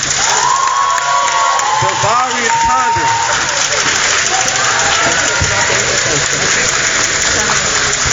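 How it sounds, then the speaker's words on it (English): Crowd of classmates cheering and applauding at a Job Corps center signing day, a dense steady roar with shouts and whoops throughout, while an announcer's voice speaks over the noise. "can y'all give a round of applause for our last but not least"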